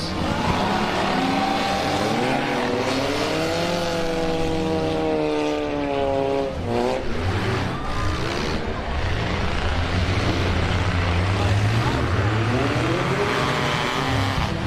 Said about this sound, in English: This is full contact racing here tonight.